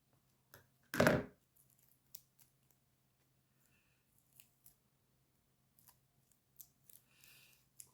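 Scissors trimming paper card for a homemade greeting card: one loud close snip near the start, followed by quiet scattered clicks and rustles of paper in an otherwise quiet room.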